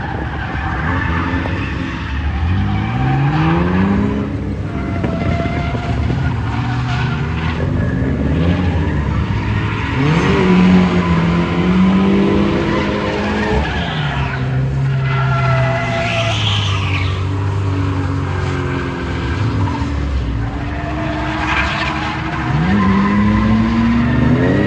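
A drift car at Evergreen Speedway, running without power steering, revs hard and squeals its tires through long slides, the engine note rising and falling in waves over continuous loud tire screech, close and unbroken with no talk.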